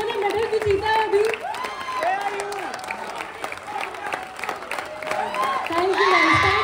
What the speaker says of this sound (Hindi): सुमित भैया के लिए एक बार जोरदार तालियां हो जाए